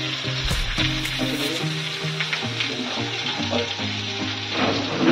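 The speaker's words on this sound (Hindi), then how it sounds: "चिकन फ्राई हो चुका है," Chicken frying in butter in a pan, a steady close sizzle with crackling pops and some clinks of utensils throughout.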